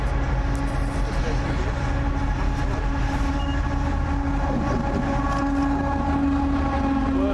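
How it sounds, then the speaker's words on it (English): A 70xxx-class freight train, 70007, passes on the Waterloo to Southampton docks service at Basingstoke, a steady continuous rumble and drone with sustained engine tones holding for the whole stretch. "Waterloog to Southampton Central West Docks freight train service"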